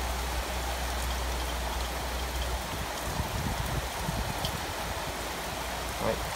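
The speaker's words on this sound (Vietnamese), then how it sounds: "Mưa to quá." Heavy rain pours steadily onto a house roof beside a home fish pond, a dense continuous hiss with a low rumble throughout and no voices.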